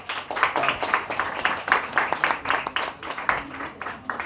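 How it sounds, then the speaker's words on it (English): Applause from the audience at a Mumbai society magazine's May issue launch event, a medium-sized crowd clapping with dense, uneven bursts that stay fairly steady and close throughout. "Can we have a huge round of applause for them?"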